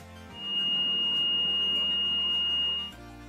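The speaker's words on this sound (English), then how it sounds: "The first one can be a local area alarm that will sound like the following." A single high, steady electronic alarm tone sounds continuously for about two and a half seconds over a low background hum, then cuts off.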